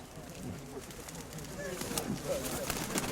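Pigeons coo softly at an outdoor market fair amid crowd murmur and voices talking nearby, the low burbling calls faint and partly masked by background noise.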